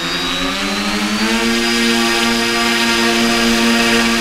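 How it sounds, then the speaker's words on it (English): The motors and propellers of a custom twin-propeller UAV spin up to full power, making a loud continuous close whine with a tone that climbs slightly as the throttle opens, then holds steady. "We're going to do a run-up here. We're going to go all the way to full power."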